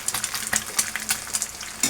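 Egg frying on a high flame, a loud continuous sizzle broken by quick rhythmic stirring scrapes, close up.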